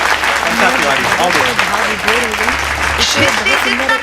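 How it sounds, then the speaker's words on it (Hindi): Audience applause at a Hindi poetry event, a steady wash of clapping that stays loud throughout, with a voice speaking or singing over it. "एक बार जोरदार तालियों से आमंत्रित कीजिए"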